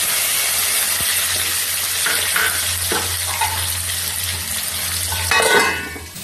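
Cut potato pieces go into a hot pan and fry, a loud, continuous close sizzle with occasional stirring scrapes and clatters that swell briefly near the end.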